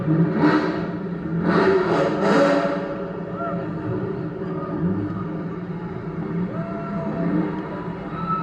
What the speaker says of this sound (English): Check out this C8 coming up, the convertible, and it's top down there